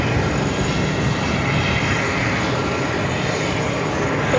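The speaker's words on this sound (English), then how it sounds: "Next takeoff is heading to San Juan at A321 Neo Frontier" Frontier Airbus A321neo jet taking off at JFK, a steady, loud engine roar that holds evenly throughout with no voices over it.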